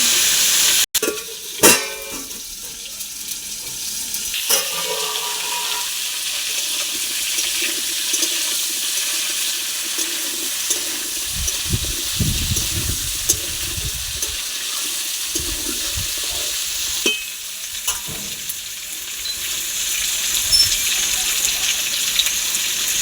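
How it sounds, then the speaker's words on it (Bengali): Potatoes frying in a pan for a vegetarian pumpkin chokka make a steady, bright sizzling hiss that runs the whole way through, with a few sharp clatters near the start. "আলুটা আমি লাল লাল করে ভেজে নেব"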